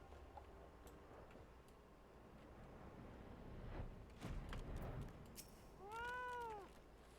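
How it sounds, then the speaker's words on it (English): Fat cat mount in Final Fantasy XIV gives a single clear, drawn-out meow near the end, rising then falling, over a steady game background with a few ticking and clicking effects. "We love the fat cat."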